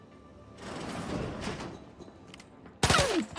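Gunfire in The Outer Worlds 2 video game: bursts of shots over a noisy combat soundscape, with a sharper, louder blast near the end.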